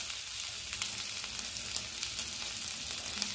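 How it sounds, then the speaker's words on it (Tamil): Peri peri chicken fries in a pan with a steady, fairly quiet crackling sizzle and scattered small pops throughout, heard alone. "இப்போ சிக்கன் ஒரு 15 மினிட்ஸாக நல்லா ஃப்ரை ஆகிட்டுருக்கு"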